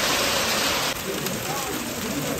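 Steady rain hisses loudly and evenly, a dense wash of noise that never lets up, with a voice faintly underneath.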